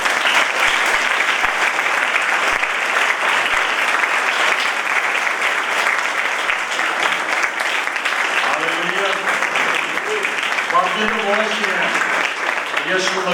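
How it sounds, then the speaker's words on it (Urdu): Loud, sustained applause from a church audience at a Christmas sermon, clapping throughout, with a voice speaking over it near the end. "آئے اس عظیم یسوع کے لیے زوردار تالیاں"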